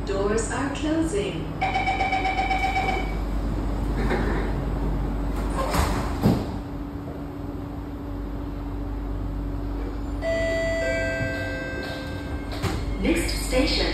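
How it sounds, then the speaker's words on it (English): Singapore MRT train doors closing, with recurring chime tones and an automated voice announcing between them, over steady low carriage rumble and background chatter. "Doors are closing."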